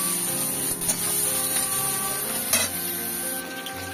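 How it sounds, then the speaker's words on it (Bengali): Onion frying in hot oil gives a continuous close hiss and sizzle, with faint scraping movements over it. "দেখো পেঁয়াজটা একটু ভাজা ভাজা হয়েছে,"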